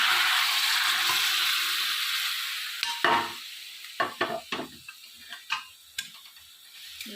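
Jackfruit curry being stirred in a pan after water is added, a gentle sizzle that fades beneath a series of distinct scraping and tapping strokes of the spoon against the pan.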